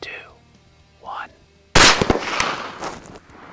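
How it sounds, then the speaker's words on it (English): Two rifle shots fired at the same instant at adult wild hog sows during a stalk, one sharp loud crack with a ringing tail, after a quiet stretch with a brief voice. "Using a countdown, both adult sows were shot at the same time."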